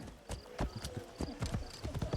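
A horse's hooves clip-clop in the video game Assassin's Creed Shadows, a steady, even trot of distinct hoof strikes at moderate distance that runs through the whole stretch.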